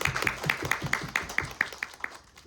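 Audience applause for short-film directors at a guest-visit screening event, a steady run of sharp hand claps that thins out and fades toward the end, no voices over it.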